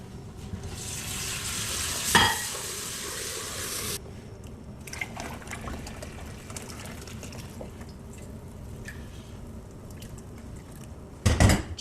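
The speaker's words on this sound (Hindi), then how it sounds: "उसी बर्तन में ही आप पानी डालें।" Water poured into a bowl that held gram flour batter, then stirred with utensil scrapes and clinks in a home kitchen, a hissing pour at the start and a louder clatter near the end.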